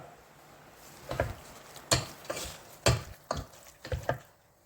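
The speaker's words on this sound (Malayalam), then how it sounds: "ഇനി ഇതെല്ലാം ചേർത്ത് നന്നായിട്ടൊന്ന് മിക്സ് ചെയ്ത് എടുക്കാം" Raw beef mixed by hand with salt and spices for a Kerala-style beef roast gives about six soft, squelchy, rhythmic pats and stirs, close and fairly quiet, with no talk.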